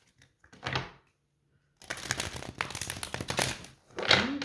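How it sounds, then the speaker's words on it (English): A deck of tarot cards being shuffled by hand, a soft brief riffle, a pause, then a longer run of dense papery flicking and crinkling, close and moderately quiet, with no talk. "we'll mix her in and see what happens when we shuffle the cards."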